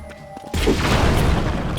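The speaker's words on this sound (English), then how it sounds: "shoutouts to using cannons to break like boulders" A cannon fires in Zelda: Tears of the Kingdom, used to break boulders: a sudden loud boom after half a second of quiet, then a sustained rumbling crash that continues to the end, with no talking.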